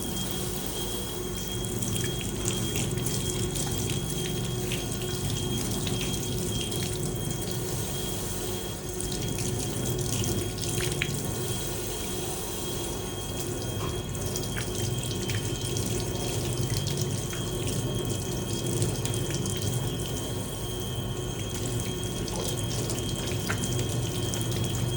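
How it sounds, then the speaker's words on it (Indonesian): Steady tap water runs continuously into a sink as hands are rinsed during handwashing practice, a loud, unbroken splashing flow that stays even from start to finish with no voices. "Oke, baru kita bilas kembali. Dari awal sampai dengan akhir tangan kita tidak boleh turun ke bawah ya."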